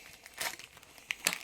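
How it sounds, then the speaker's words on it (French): Scissors snip and crinkle through thin plastic packaging while unboxing a GoPro Hero 7 Black camera, giving short crackling bursts near the mic, loudest at the end. "J'ai un ciseau, autant l'utiliser."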